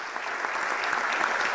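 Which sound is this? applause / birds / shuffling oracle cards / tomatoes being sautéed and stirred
applause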